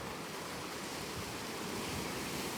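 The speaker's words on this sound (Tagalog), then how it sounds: "Humampas yung alon." Ocean waves crash and wash onto the shore in a steady, dense roar, with a windy rush throughout and no voices.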